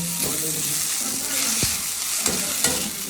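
Okra sizzling as it fries in a pan with salt, turmeric, coriander powder and garam masala, with a utensil stirring and scraping it in a few distinct strokes over the steady crackle.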